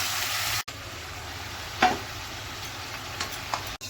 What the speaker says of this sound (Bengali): আর গোটা শুকনো লঙ্কা ফোড়ন দিচ্ছি